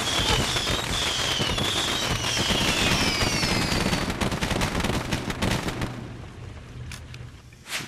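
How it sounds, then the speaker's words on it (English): Box fireworks go off in the Penny Arcade video game: a rapid crackling fusillade of pops and bangs with whistling streaks, thinning to scattered bursts toward the end. "Ooh, box fireworks!"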